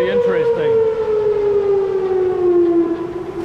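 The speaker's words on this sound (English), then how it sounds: "when they release the water, you can hear the siren" A civil defense siren at a dam in Beavers Bend State Park sounds a steady wailing tone that slowly falls in pitch, loud and close, warning before a water release.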